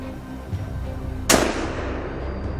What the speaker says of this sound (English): The gunshots rang out.